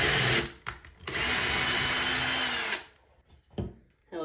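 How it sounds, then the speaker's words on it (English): A power drill bores deep into wood for a 3-inch screw while building a floating shelf, with a few short bursts and then a sustained loud whine that stops, followed by brief trigger taps. "Since I am using a 3-inch screw, I'm gonna drill even further."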